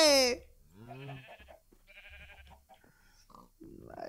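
Minecraft goats and pigs make short bleats and grunts in the game, a bleat opening the clip and another following, mixed with a player talking excitedly.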